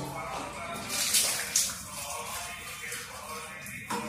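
Hands are washed in a bucket of detergent water, with close sloshing and splashing of water and a few brief louder splashes.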